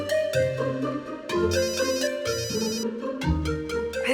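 A phone ringtone plays loudly and close, repeating a bright melodic electronic tune in quick phrases over about four seconds, with no voices.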